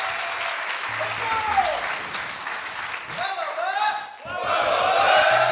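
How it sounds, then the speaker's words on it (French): A crowd claps and cheers loudly and continuously during a Shovel Knight Treasure Trove speedrun, with a voice calling out over the applause near the start. "Applaudissements."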